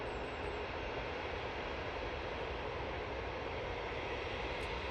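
Boeing 737-type aircraft engines at Manchester Airport, a steady, loud broadband roar holding evenly throughout without any talk.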